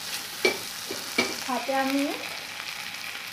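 Chopped tomatoes frying in a pan for a shrimp malai curry give a steady, soft sizzle, with a short stretch of talk over it partway through.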